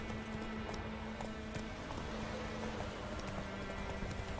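A horse gallops in The Witcher 3 video game, its hooves beating a steady, fast clip-clop over a constant ambient bed, fairly near, with no talk.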